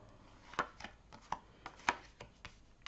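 Tarot cards from a Golden Universal Tarot deck being cut and handled, giving a handful of crisp, irregular card snaps and taps close up in a quiet room, with no talking.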